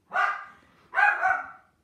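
A dog barks close by, two loud, drawn-out barks with a short pause between them, the second trailing into a rougher extended yelp.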